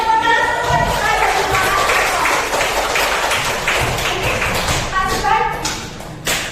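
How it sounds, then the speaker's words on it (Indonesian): Classroom audience clapping hands at a school positive-discipline session, a dense, steady burst of claps with tapping thumps and some voices mixed in throughout. "Beri tepuk tangan buat saya."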